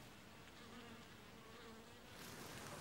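Honeybees swarming at an apiary hum in a soft, continuous drone, faint but steady throughout with no voices.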